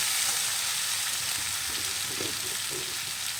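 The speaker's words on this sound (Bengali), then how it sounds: "চিংড়ি মাছগুলো ভালোভাবে নেড়ে চেড়ে নেবো যাতে মশলার মধ্যে ঢুকে যায়" Prawns being stirred with spices in a hot frying pan give off a steady, even sizzle with faint scraping, and no one speaks.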